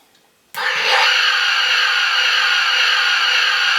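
A Playmates Star Trek: Deep Space Nine toy space station fires its phaser sound effect: a sudden loud electronic blast that starts abruptly and holds as a steady, bright, sustained hiss-like whine with no talking.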